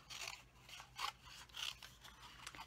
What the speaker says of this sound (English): what I'm going to do is just fussy cut this little flower out